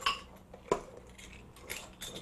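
Vanilla extract stirred into Christmas treat batter in a bowl by hand, giving a few soft clinks and scrapes of a spoon against the bowl, quiet and close, with no talking.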